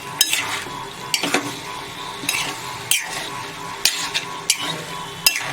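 Cooked mixed vegetables for Surti undhiyu being stirred in a kadhai, with sharp spoon scrapes and clanks against the metal at irregular intervals over a light sizzle, no voices.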